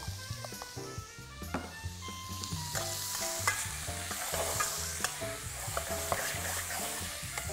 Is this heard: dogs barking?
no